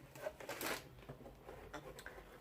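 Quiet, close crinkling and rustling as a Yves Rocher Christmas gift box holding body care products, hand gel and a candle is unwrapped, with short papery bursts and shuffles.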